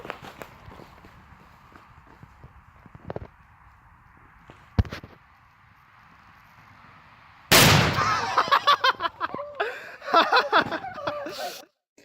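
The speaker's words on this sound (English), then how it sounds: "now we get to the video of my uncle and my dad launching a frickin' firecracker" A Fourth of July firecracker launches and then bursts loudly outdoors: faint pops and an ambient hum first, then a sudden sharp blast followed by a burst of crackling reports over a few seconds.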